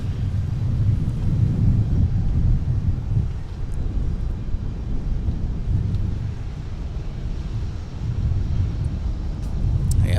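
An airliner landing at MSP airport in the Twin Cities rolls out on the runway, a steady loud low rumble and roar with wind noise that holds throughout, with no talking.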